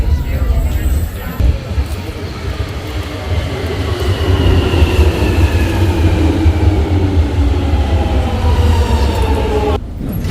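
A train at a London station gives a loud, continuous rumble with rolling wheel noise and faint squeals, while people talk nearby on the platform.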